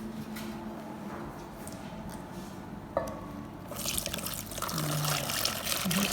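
Nearly boiling hot milk poured onto a previous mixture for a diplomat cake cream, a quiet kitchen backdrop giving way halfway through to a steady, close, splashing pour that continues to the end.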